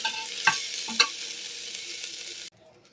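Rice and lentils with spices, cumin powder among them, stirred and fried in a pan: a continuous close sizzle with a couple of sharp utensil scrapes and clinks, cutting off abruptly near the end.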